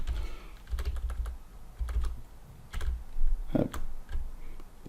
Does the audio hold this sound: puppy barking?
no